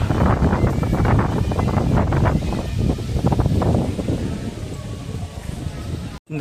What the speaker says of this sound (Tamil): காற்று சூப்பராக வீசுதுங்க.